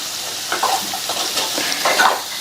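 Soft scraping of a spoon stirring vegetables and slit green chillies in a frying pan, with a faint steady sizzle and hiss beneath a few brief strokes.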